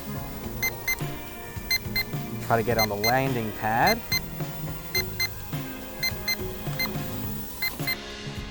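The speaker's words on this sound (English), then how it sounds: "there we have our low battery alarm" Repeated short, evenly spaced electronic beeps from the low battery alarm of an H1H micro drone, moderately loud, running throughout while someone talks briefly and quietly over them.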